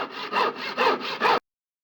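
A knife saws through an overcooked steak in about five rough back-and-forth strokes that rasp like wood being sawn, loud and close, then stops dead.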